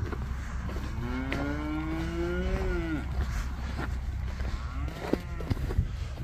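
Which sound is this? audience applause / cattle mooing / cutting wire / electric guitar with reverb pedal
cattle mooing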